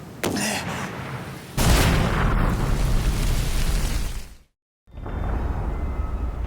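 A flare being fired in Siren 2: a sharp pop followed by a sustained loud whooshing, hissing burn that runs for several seconds, cuts to silence, then resumes as a steady roar.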